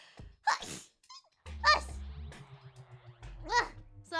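Sneezing by someone comes in short bursts amid playful vocal sounds. Several sharp sneezes break up gaps of quiet, with a voice chattering in between.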